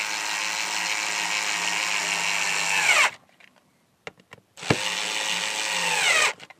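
A power driver whines in two long bursts, each sweeping down in pitch as it slows, while screws are driven into a Squier Telecaster guitar control panel. A few small clicks and taps fall in the short gap between the bursts.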